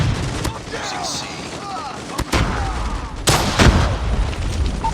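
Gunfire in a first-person shooter video game: scattered sharp shots and booming blasts, a few loud close cracks among fainter distant fire, with game voice callouts mixed in.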